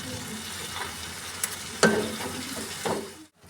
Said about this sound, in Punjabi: ਮਸਾਲੇ ਨੂੰ ਆਪਾਂ ਚੰਗੀ ਤਰ੍ਹਾਂ ਭੁੰਨ ਕੇ ਤਿਆਰ ਕਰਾਂਗੇ